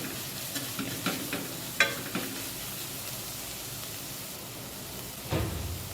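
Chopped leeks sauté in a soup pot with a soft, even sizzle, broken by a few spoon scrapes and knocks early on and a louder stir near the end.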